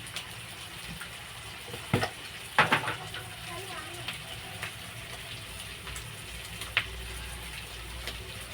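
Oil sizzles steadily at close range with scattered pops and clinks of a utensil against the pan as tempering spices fry for an egg dish.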